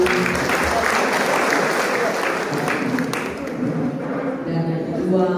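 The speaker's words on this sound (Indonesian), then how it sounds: "kita berikan tepuk tangan dulu" Steady, dense applause from a church congregation at a civil servants' worship service, sustained and full, with some voices mixed in underneath.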